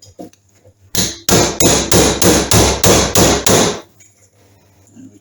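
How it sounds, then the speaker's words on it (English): A hammer strikes an impact driver to loosen crankcase screws on a Triumph Trident T160, a quick run of about nine loud, evenly spaced metallic blows close by, with no speech. "Then I can put the impact driver on these 3 screws. There you go, and I just loosen them off."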